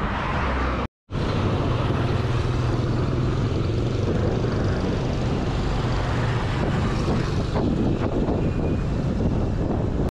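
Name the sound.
strong headwind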